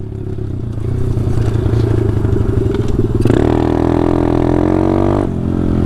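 A Taotao DB17 125cc dirt bike with an upgraded carburetor revs loudly and steadily up close, its engine note climbing to a higher pitch partway through and then easing briefly near the end.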